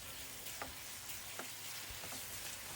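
Vegetable soup with bell peppers simmers in a pot, giving a steady soft sizzling, bubbling hiss with a few faint clinks, close by and without speech.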